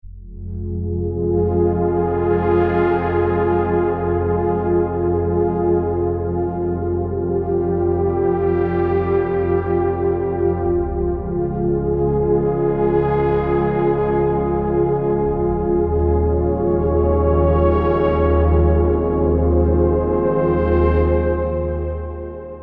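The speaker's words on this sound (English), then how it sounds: "Then the last synth that I'm going to show you is called Ultra and sounds like this." Ultra synth preset from a Diva soundbank for melodic techno and house holds a sustained, bell-like pad with slow swelling chords that rise and fade roughly every five seconds above a pulsing low bass, steady and alone.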